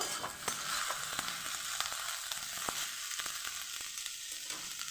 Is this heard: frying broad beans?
yes